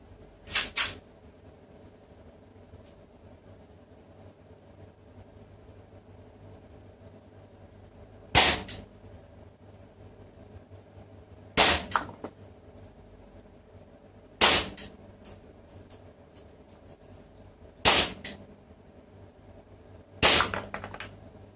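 Smith & Wesson M&P9 airsoft pistol fired on a test range, six sharp single shots spaced a few seconds apart over a quiet background hum.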